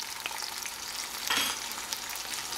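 Garlic sizzles in a pan for jazzed-up spaghetti, a steady close crackling fry with occasional stirring scrapes, heard alone without talk.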